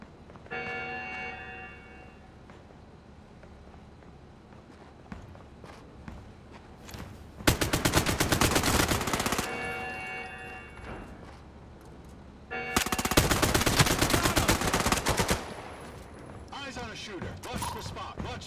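Two long, loud bursts of rapid machine gun fire from enemy gunners in the online shooter game Caliber, at a dam, breaking through quieter game ambience, with voices speaking over it.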